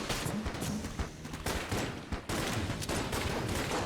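Rapid bursts of pox cannon fire in Enter the Gungeon, a dense, loud volley of shots running continuously with brief gaps, heard alone without talk.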